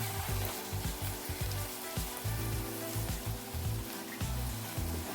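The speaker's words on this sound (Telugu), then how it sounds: "ఉల్లిపాయలు, పచ్చిమిర్చి చూడండి బాగా వేగాలి." Onions and green chillies fry in oil in a pan, giving a steady dense sizzle with crackling pops, close and continuous, with no talking.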